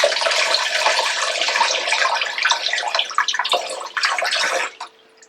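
Tap water runs steadily over a small piece of carrot in a sink, a close, fairly loud rushing stream that breaks up into splashes before cutting off near the end.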